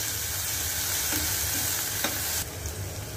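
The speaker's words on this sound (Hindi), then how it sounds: "इसके बाद हम इसमें 1 टेबलस्पून अदरक और लहसुन का पेस्ट डाल देंगे। उसको थोड़ी देर चलाते रहेंगे।" A tablespoon of ginger-garlic paste sizzles steadily in hot oil with curry leaves in a pan for a purple yam (ratalu) sabzi, with a few spoon scrapes from stirring and a brief louder burst near the end. No talking.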